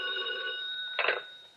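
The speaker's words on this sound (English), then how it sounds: "We just about finished going through the overnight reports for some kind of a lead when the phone rang." A telephone bell rings in a Dragnet old-time radio police drama, a bright, steady ring that ends in one louder rattling burst before fading.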